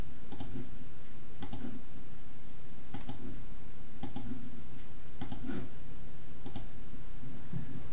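Sharp, close mouse clicks while working in Mastercam 2023 CAD software, about seven crisp single clicks spaced irregularly over a faint steady hum, no speech.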